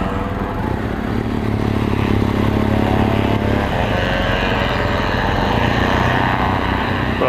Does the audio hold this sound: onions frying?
no